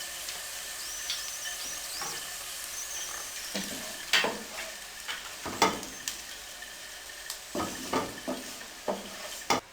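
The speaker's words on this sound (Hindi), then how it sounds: "लो फ्लेम पे इसको अच्छे तरीके से फ्राई कर लें। शिमला मिर्च हमारी बहुत अच्छे तरीके से फ्राई हो चुकी है।" Bell pepper frying over a low flame in cooking oil gives a soft, steady sizzle, broken by scattered clinks and scrapes of stirring in the pan, with no talking.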